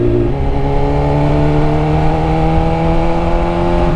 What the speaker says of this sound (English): The pops are louder, but just the constant tone out of the pipe is just loud